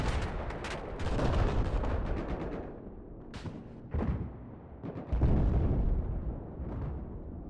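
Gunfire and explosions in a Battlefield 4 multiplayer match on PS4, dense rapid shots and booming blasts rolling together loudly, with heavier thuds standing out partway through.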